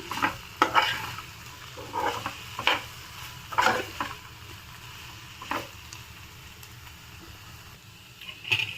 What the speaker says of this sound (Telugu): తగినంత కారం వేసుకోండి ఇప్పుడు ఒకసారి మిక్స్ చేసుకుందాము